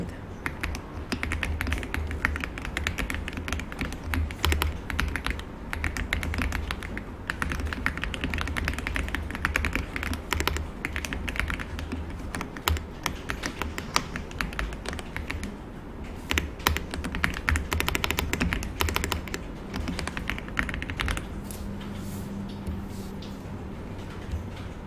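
Rapid continuous typing on a computer keyboard during a word-processing exam task, a dense close clatter of key taps lasting throughout with brief pauses near the end.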